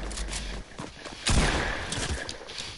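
Gunshots in a video game, a few quick reports followed by a heavier blast midway, fairly close and loud with no clear speech.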